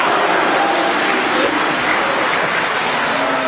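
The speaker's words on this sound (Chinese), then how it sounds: "嗯、这就这么多鼓掌的了吗？" Audience at a Guo Degang and Yu Qian crosstalk performance applauds in a dense, continuous wash of clapping, loud and even from start to finish.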